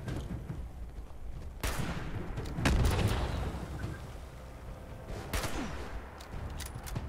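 Fallout 76 combat with shotgun blasts and grenade explosions: several sharp reports and a heavier boom ring out at a moderate distance over a low rumbling background, with no voices.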